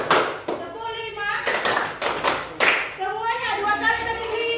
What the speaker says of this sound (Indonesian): tepuk 5, tepuk 3, tepuk 4, tepuk 5